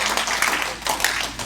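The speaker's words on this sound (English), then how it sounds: "So give yourself a round of applause." Conference audience clapping together in a hall, a dense continuous wash of applause throughout, loud and close.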